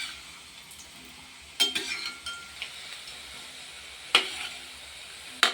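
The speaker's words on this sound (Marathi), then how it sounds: "मोदक छान असे ब्राऊन रंगावर तळून घ्यायचे" Sweet modaks deep-frying in hot oil until brown: a steady, quiet sizzle with a few sharp metallic clinks of a utensil against the pan, nearby and without talking.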